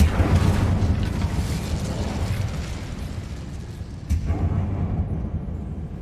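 Incendio fire spell from Hogwarts Legacy, loud roaring bursts of flame with booming, eruptive whooshes, a sustained blast fading then a second burst near the end.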